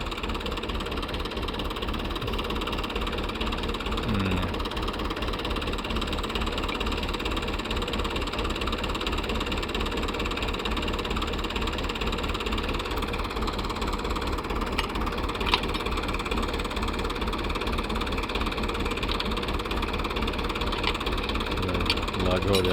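A tractor engine runs steadily in a field, a continuous close mechanical drone and rumble that holds for the whole stretch, with voices talking over it.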